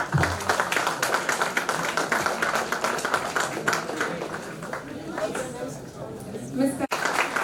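Audience at a business literature summit clapping, scattered, uneven claps mixed with chatter and speech that continue throughout and thin out toward the end.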